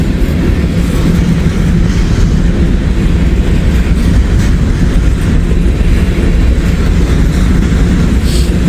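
A Norfolk Southern freight train rolls past close by, a loud, steady rumble of wheels and cars with faint rhythmic clatter throughout and no talking.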